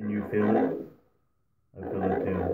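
Star Wars Kylo Ren helmet voice changer set to pitch one turns speech into a deep, growling, roar-like processed voice in two short phrases separated by a pause.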